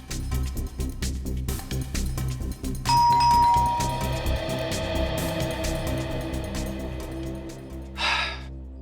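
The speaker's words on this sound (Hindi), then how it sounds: "आप एक बार और घंटी बजाने का कष्ट करेंगे।" A doorbell chimes once with a clear, ringing tone that lingers, followed later by a short breathy burst; no talking.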